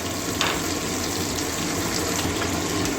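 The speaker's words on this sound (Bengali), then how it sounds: "খুব একটা ভাজবো না মোটামুটি মাঝামাঝি ভাজবো বেশি ভাজলে আবার শক্ত হয়ে যাবে মাছগুলো" Small parshe fish fry in hot oil in a pan, giving a steady, loud, close sizzle that crackles evenly for about three seconds with no talking.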